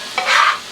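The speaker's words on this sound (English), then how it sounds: "Onions and peppers sweated a bit. Onions starting to turn opaque." Onions and peppers cook in a pan on a Char-Griller Gravity 980 with a brief stirring scrape and a short burst of sizzle. Close and loud, lasting under a second.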